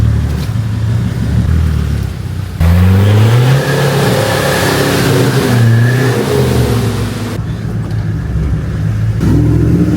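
A car accelerates hard in fourth gear along a rough Cape York bush road just after climbing out of a bog hole. The engine's close, loud drone swells and rises, then settles back to a steady rumble.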